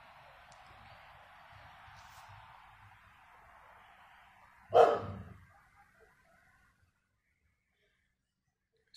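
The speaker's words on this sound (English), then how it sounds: "He likes to bark when everybody else is asleep." A single sharp dog bark rings out midway, fairly close, against a faint hiss of background noise.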